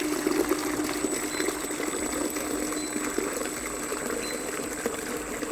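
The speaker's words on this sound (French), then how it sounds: "Donc on vide complètement la machine." Water gurgling and splashing as a Sylco S930 professional ice cream machine is drained after cleaning, a steady churning flow with no speech.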